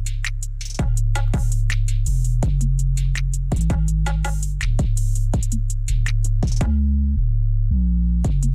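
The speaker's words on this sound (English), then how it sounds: "And then the kick pattern right here." Simple kick drum pattern from a beat, deep booming kicks landing in a syncopated rhythm with tonal bass tails, playing alone without talk and loud throughout.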